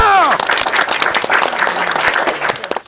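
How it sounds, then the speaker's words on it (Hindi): Crowd applause breaks out in a staged Hindi political skit, a dense, loud wash of clapping from a gathered audience that runs steadily for a few seconds. "तालियां!"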